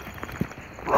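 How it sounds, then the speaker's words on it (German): A dog near a hotel along a long gravel path gives a single short, muffled bark at moderate distance, mixed with light footsteps. "vorne ist jetzt einer der zwei Hunde, die ich hier in der Nähe vom Hotel jetzt kennengelernt habe"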